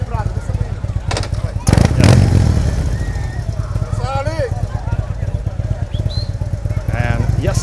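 Motorcycles lead the start of a 5 km race at Palm Beach, Aruba, their engines rumbling steadily close by beneath a crowd, with people talking loudly over the noise.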